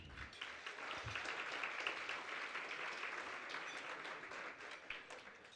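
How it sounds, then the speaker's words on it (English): An audience at a wealth awards ceremony applauds the honorees, a sustained, even roar of many hands clapping at moderate distance, holding steady from start to finish. "Please join me in giving them a round of applause"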